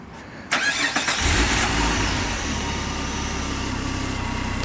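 A stock car fitted only with a side intake and a relocated battery cranks and fires up, then settles into a steady, close-up idle with a low rumble.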